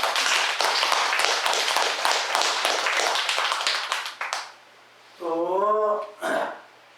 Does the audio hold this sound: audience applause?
yes